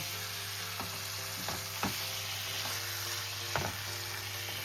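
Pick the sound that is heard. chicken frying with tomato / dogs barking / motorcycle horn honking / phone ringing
chicken frying with tomato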